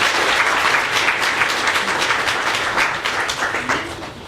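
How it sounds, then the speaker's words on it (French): Brief burst of audience applause at a corporate insurance event, a dense crowd clapping that holds steady and then eases off slightly toward the end. "Je pense que ça doit s'applaudir."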